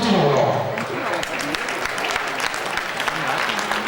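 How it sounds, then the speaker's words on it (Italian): Steady applause from a crowd at a cyclocross race awards ceremony in Vittorio Veneto, with dense close-by clapping throughout and a voice briefly audible at the start. "applausi per tutti loro."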